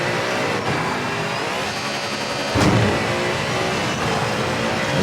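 Rally car engine in V-Rally 4 revving hard and steadily, a loud continuous roar with rising and falling pitch through gear changes and a brief surge partway through, with no voices.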